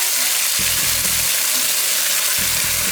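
Steady broadband sizzle of tomato chutney frying in a hot pan, with a few low bubbling thumps as the thick chutney hits the oil.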